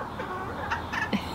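Soft clucking from a bantam chicken after dark, a few short low calls close by against a quiet background.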